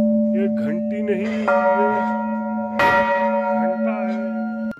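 Large temple bell at Jogeshwar Dham being struck repeatedly, loud overlapping clangs with long ringing sustain, while people talk nearby between strikes.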